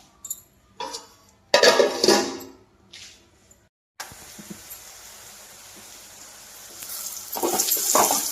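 Ridge gourd curry with salt cooking in a covered pan: steady soft sizzling after a few stirring and lid clinks, growing slightly louder toward the end.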